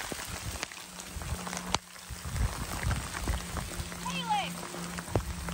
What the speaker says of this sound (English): Hailstones.